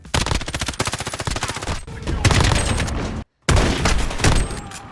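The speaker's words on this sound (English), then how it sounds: "The weapon sounds are superb." Gunfire from the video game Modern Warfare, loud bursts of rapid automatic fire and heavy single shots with a sharp cut to silence between volleys, close and punchy.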